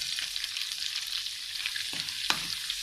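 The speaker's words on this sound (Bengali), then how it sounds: "রসুন কিছু ভাজা হইবে" Crushed garlic frying in hot oil for a chicken curry, a continuous close sizzle with a couple of sharp stirring scrapes, no talking.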